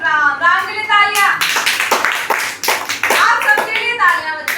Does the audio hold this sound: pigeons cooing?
no